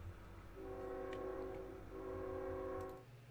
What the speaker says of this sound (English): Train brake.